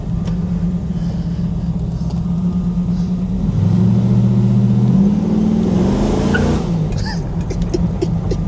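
A restored 1969 Chevrolet Camaro SS with a 383 engine accelerates hard, its loud, close V8 note climbing in pitch through revs and a gear change before easing off, with a brief tire-scrub hint near the end.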